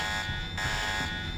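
Alarm blaring in the Deus Ex PC game, a continuous harsh electronic buzzing tone that pulses slightly in intensity, sustained and fairly faint, with no voices.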